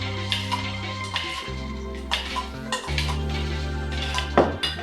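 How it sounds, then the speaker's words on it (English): A spoon stirs a sauce of paprika and sugar in a bowl, with clear clinking and scraping of metal against the dish in uneven strokes, up close and fairly quiet. "we're just gonna mix all those together until the paprika and the sugar have been dissolved"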